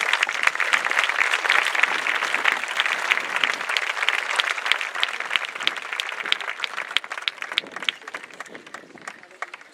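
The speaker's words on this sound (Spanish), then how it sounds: "Un fort aplaudiment, que arriba el moment musical." An audience at an anniversary gala applauds just before a musical performance. The clapping is dense and sustained, close and lively, and slowly thins toward the end.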